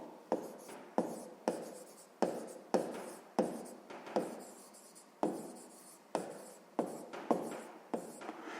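Handwriting a number with a pen on paper, a series of about fifteen short scratchy strokes in an uneven rhythm, close and clear with no talk over it.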